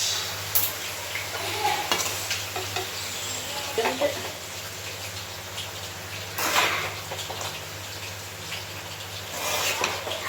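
Chicken rice sizzles steadily in a hot pan while a utensil stirs and scrapes through it, with a few louder clanks near the start and end.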